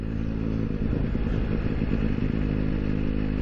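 Steady motorcycle engine drone while riding along a road on a dry, slightly breezy day, a continuous low rumble held at an even, moderately loud level with light clatter and wind noise throughout.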